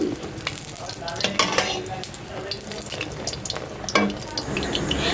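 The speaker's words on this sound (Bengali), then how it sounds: "আর সাথে এদিকে হচ্ছে গরম গরম তালের বড়া ভাজা।" Palm fruit fritters (taler bora) fry in hot oil during a Janmashtami celebration, a busy close sizzle mixed with stirring and clinks of pans and utensils, with no clear talking.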